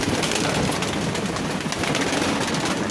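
Pigeons coo softly during an evening feeding in a frosty loft at minus ten degrees, their calls blending into a continuous rustling background.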